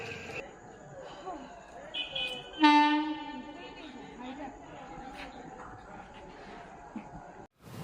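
At a busy railway station, a train horn sounds one brief, loud blast amid crowd chatter, with people talking nearby throughout.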